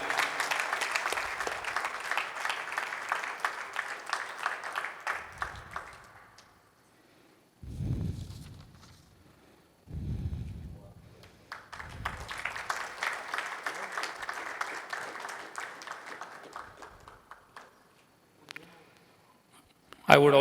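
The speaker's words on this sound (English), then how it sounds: "I think the claps have to get the loudest now." Audience clapping at a launch event in Pune, two bursts of applause separated by a pause with brief voices, the second swelling again before dying away.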